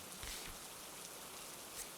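Steady rain falling with a soft continuous patter and hiss, quiet and even throughout, a couple of slightly louder drops, no voices.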